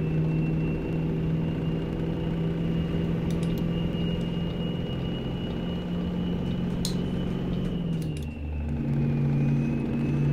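A Mack Cruiseliner truck with a 12-speed Maxitorque transmission driving at night in American Truck Simulator, its engine a steady low drone with a whine above it, dipping briefly as a gear change lands, then settling back into the constant hum.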